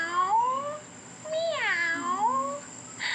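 A voice imitates a cat in a kids' yoga session, giving two drawn-out, wavering meows near and clear over quiet room tone.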